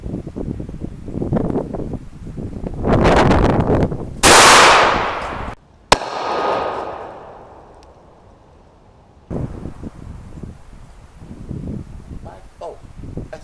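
An H&R 20 gauge shotgun fires a half-ounce slug at 4-inch concrete outdoors, one sharp loud report with a short fading tail amid wind noise, with someone talking before and after.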